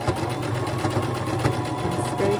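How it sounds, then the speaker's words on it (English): A sewing machine stitching fringe trim, sewing down then backstitching up and back down, with a continuous close motor whir and needle chatter throughout and no talking. "Sew down. Then back stitch up, and then back stitch, and sew back down."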